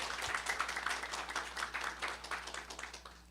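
Audience applause at an energy forum welcomes the moderator, a soft steady patter of many hands heard from a distance, fairly quiet and unbroken for a few seconds.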